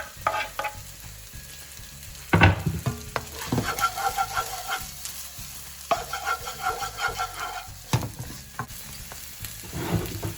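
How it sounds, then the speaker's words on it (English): Onions frying in a pan with ginger, garlic and chilies for a restaurant-style Indo-Chinese prawn dish, a steady close sizzle broken by repeated scraping stirs and clanks of the spatula. "So now the next one to go in are the onions."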